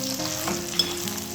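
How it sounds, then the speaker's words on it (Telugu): Dry red chillies hit hot oil with a loud, close, crackling sizzle that holds steady through a brief moment, with a small spitting pop midway. "ఎండుమిర్చి అన్నీ వేసేసుకుందాం."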